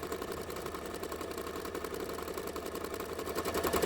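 A sewing machine races through thread-painting stitches, sped up into a dense, steady mechanical buzz and whir with rapid repeating clatter, close and continuous throughout.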